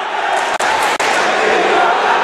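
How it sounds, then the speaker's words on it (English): A basketball crowd in Haynes Gymnasium cheers loudly, packed behind the basket and on their feet. The roar is steady and dense, broken by two sharp brief cracks. "the crowd is up there behind the bucket on their feet, letting them know where he's at"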